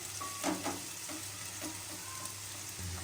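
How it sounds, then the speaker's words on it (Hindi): Chopped medium-sized onions dropped into hot oil in a home kitchen, giving a steady, close sizzle and crackle with a few stirring scrapes near the start, no talk. "अब मैं यहाँ दरमियाने साइज़ की इस तरह चॉप प्याज को डालूँगी। इसको फ्राई कर लीजिएगा।"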